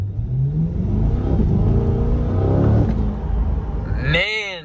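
A Corvette C8 with a dual-clutch transmission revs hard with a loud, steady engine drone that climbs in pitch, then lifts off into a sharp crackle of exhaust pops at the end.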